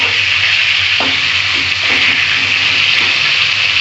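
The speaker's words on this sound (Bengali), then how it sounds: "এক পিঠ উল্টে দিলাম, আর একটু ভাজা ভাজা হবে।" Pieces of pointed gourd fry in hot oil in a pan, making a loud, steady sizzle with a few soft stirring knocks and no talking.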